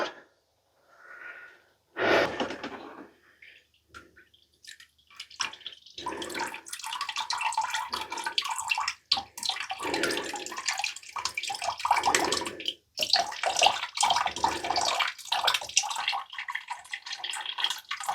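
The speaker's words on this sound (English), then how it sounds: "I guess when those bubbles stop, water should start coming out." Creek water gushing and bubbling out of an off-grid plumbing pipe, starting with faint gurgles and a burst, then running in a loud, steady splashing flow with short gaps and surges.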